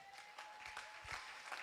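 A church congregation claps hands, soft and somewhat distant, in a loose irregular rhythm of separate claps.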